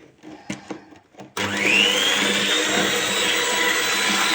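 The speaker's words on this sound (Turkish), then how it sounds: "Ve güzelce çırpıyoruz tekrar." After a few soft knocks, an electric mixer switches on and whirs steadily at close range, whisking orange cake batter in a bowl with a continuous bright mechanical drone.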